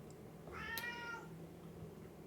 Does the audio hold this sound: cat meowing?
yes